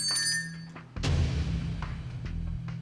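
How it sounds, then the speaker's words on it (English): A contestant on a cooking game show rings a bell: one sharp, ringing strike that fades out, followed by a sudden loud thump and a low, rumbling swell that keeps going to the end. "When someone rang the bell"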